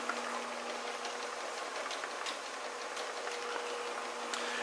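A stainless steel table-top chain conveyor runs on a 90 volt Baldor DC variable-speed motor, giving a steady, even whir with a low hum and faint, scattered ticks throughout.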